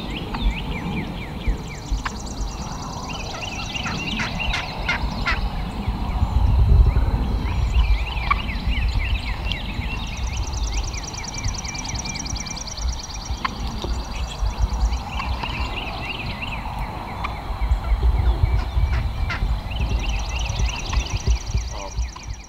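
An aggravated wild hen turkey yelps in repeated series of sharp, rhythmic calls spread across the recording, mid-distance against an outdoor background with occasional rustling and no speech.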